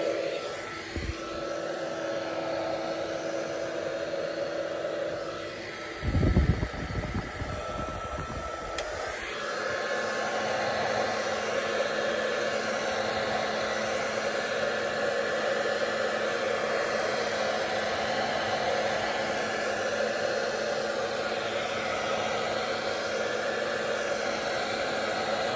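A hair dryer blows over a mixed media artwork, a constant loud rushing whoosh, interrupted briefly by a lower rumbling burst before the airflow steadies again, with no talking.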